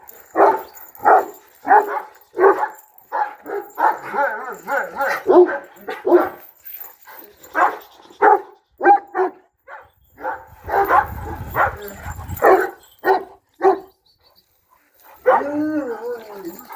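Repeated loud dog barks in irregular bursts, several dogs close by, with a brief howl-like whine near the end.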